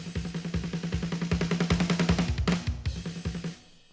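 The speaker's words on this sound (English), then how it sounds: "We've got drum fills, like from like simple snare rolls" A fast run of drum hits, snare and toms struck in rapid succession with a couple of cymbal crashes, then a sudden stop.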